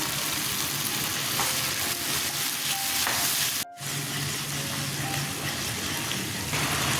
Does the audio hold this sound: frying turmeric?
yes